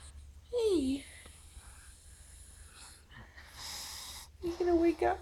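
A sleeping pug dog snores with wheezy, snorting breaths, soft and close, while a person speaks gently over it at times.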